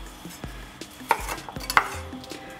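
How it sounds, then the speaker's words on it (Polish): A kitchen knife chops through raw chicken wings, splitting off the tips and halving the rest, with a series of sharp, close thuds against a cutting board at an uneven rhythm and no talking. "odcinamy najpierw lotkę i pozostałą część kroimy"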